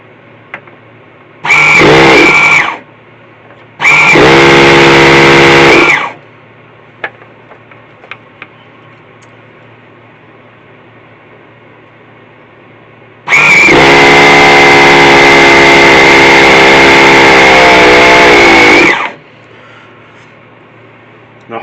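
Small 1981 Mardave Marauder model car engine catching on its carburettor and running: two short, high-pitched buzzing bursts, then a steadier run of about six seconds, loud and close, with quiet pauses between.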